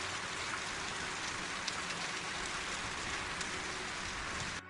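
Steady rain falls in a Bengali ghost cartoon, a dense even hiss of drops on a surface throughout, with no voices and a brief drop at the very end.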